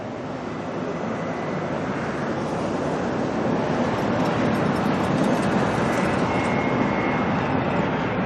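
An airplane takes off at Auckland Airport, a loud, steady jet roar that swells slightly and holds across several seconds with no talking.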